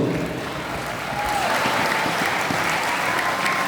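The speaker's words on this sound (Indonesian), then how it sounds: "Berikan tepuk tangan untuk masing-masing regu." An audience at a Quran quiz final for young boys gives sustained, loud applause for the competing teams, a dense continuous clapping wash throughout.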